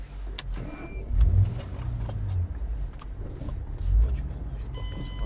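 Car engine revving hard at full throttle while drifting, two loud surging roars rising and falling around a brief drop between them, close and prominent over a low idle rumble.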